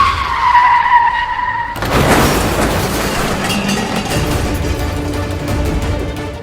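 A car's tires skid with a loud, harsh screech that bursts in suddenly after a brief tonal sound and continues as gritty, rattling noise to the end.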